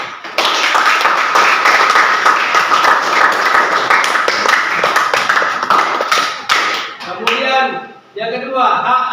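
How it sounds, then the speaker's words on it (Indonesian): Participants at an academic supervision and coaching session clap together, a loud, dense burst of hand claps lasting several seconds that thins out and stops, after which a voice starts talking. "tepuk tangan dulu"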